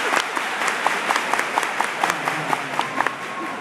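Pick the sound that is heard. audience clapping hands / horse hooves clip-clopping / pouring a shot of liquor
audience clapping hands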